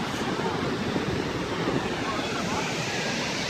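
Lake Michigan surf on the beach at Michigan City, Indiana, a steady broadband wash of waves mixed with wind buffeting the microphone, continuous and fairly loud.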